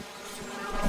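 Angry bees buzzing in the video game King's Quest, a dense continuous swarm drone, close and steady through a brief moment and swelling slightly at the end.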